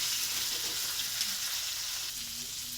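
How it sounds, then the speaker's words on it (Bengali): Pointed gourd, potato and eggplant fry in oil with a constant, even sizzle, close and fairly quiet, with faint stirring underneath. "পটলটা দিয়ে দেওয়া হলো, আলুটা দিয়ে দেওয়া হলো, বেগুনটা দিয়ে দেওয়া হলো, দিয়ে ভালো করে একটু নেড়ে চেড়ে ভাজবো"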